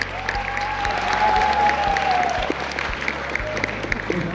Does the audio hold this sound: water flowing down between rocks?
no